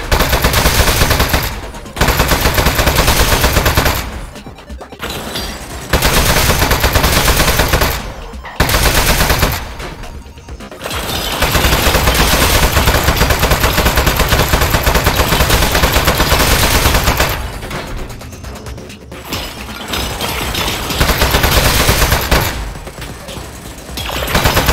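Turret gunfire rattles in the Aperture Desk Job video game, long loud automatic bursts broken by brief pauses, with no talk.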